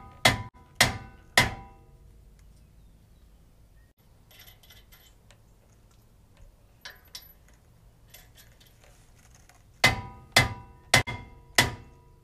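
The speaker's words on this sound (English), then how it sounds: "I'm just going to hit it on the back and it'll break loose." Hammer blows on a stuck brake rotor of a Toyota Tundra, three sharp metallic clangs, then a quieter stretch with light clinks, then four more ringing strikes in quick succession.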